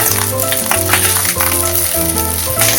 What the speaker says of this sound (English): And next I'm going to add in the rice to it. And give it a good mix.